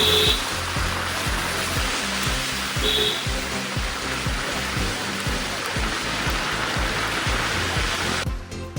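Steady rain falls at Elphinstone Point in Mahabaleshwar, a dense, continuous wash of hiss with soft low thuds underneath. It holds constant and close for the whole stretch, with no voices.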